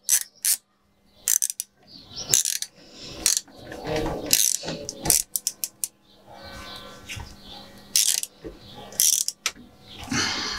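A part on an old city bicycle being unscrewed by hand, heard as close bursts of ratcheting clicks and metallic taps in short irregular runs with pauses between them.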